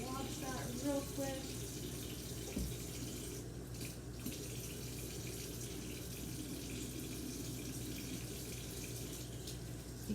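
Tap water running steadily into a sink while a tablespoon is rinsed in a kitchen during biscuit baking, a continuous close splashing hiss with light clinks of the spoon near the start.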